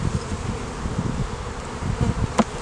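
Honey bees hum loudly and close from an opened overwintered hive during a spring inspection, a dense continuous buzz with a brief sharper whine near the end.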